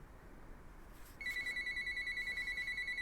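An old Nokia mobile phone powers on with a sustained high electronic startup tone that begins abruptly after a second of faint background hiss and pulses steadily to the end, heard alone outdoors on a beach.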